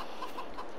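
Chickens cluck softly and steadily inside a coop in Farming Simulator 22, a few short repeated calls over a constant low ambient bed.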